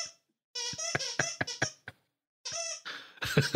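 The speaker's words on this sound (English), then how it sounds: "This is why we don't buy dogs the squeaky toys." A dog chewing a squeaky dinosaur toy produces rapid bursts of shrill squeaks, several quick squeals, a brief pause, then another squeaking flurry, close and clear without voices.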